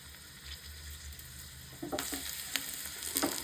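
Mustard seeds and urad dal sizzle in hot oil for tempering, a faint steady frying hiss that picks up near the end with a few small pops and crackles.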